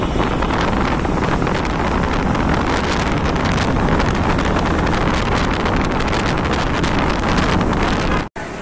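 Heavy wind buffets the microphone during a motorcycle ride through the city toward Kamalapur railway station, a loud, continuous roar with no pauses that cuts off abruptly near the end.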